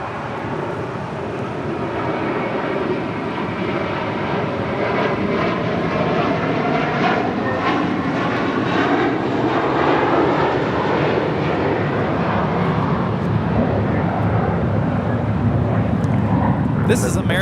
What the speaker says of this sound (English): This is American Airlines 307 taking off to JFK on an A321.